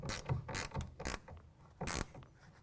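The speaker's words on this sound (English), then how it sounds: "we can go ahead and tighten that down with a 1/2-inch ratcheting wrench" A 1/2-inch ratcheting wrench tightens a rail clamp for a soft roll-up tonneau cover on a 2017 RAM 1500, giving close, loud repeated ratchet clicks in uneven bursts with no talk.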